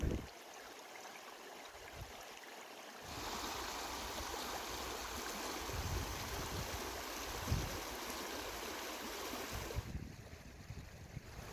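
A mountain creek flows above tree line in Alaska's Talkeetna Mountains, a steady broadband rush of water heard up close and alone, swelling louder through the middle, with a few light knocks.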